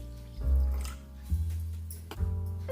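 Water poured from a bowl into a batter of ground oats, semolina and yogurt, three short splashy pours with liquid gurgling between them, close and fairly quiet, no voices.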